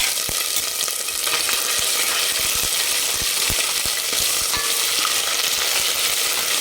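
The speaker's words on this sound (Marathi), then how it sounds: "अर्धा मिनिट आपण फक्त फ्राय करून द्यायचं याचा" Spoonful of ginger-garlic paste frying in oil as tempering for a village-style Maharashtrian fish curry, a loud close crackling sizzle punctuated by sharp spatula taps and stirring scrapes throughout, no talking.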